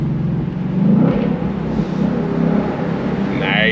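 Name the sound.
2025 Ford Mustang GT engine and gear shifts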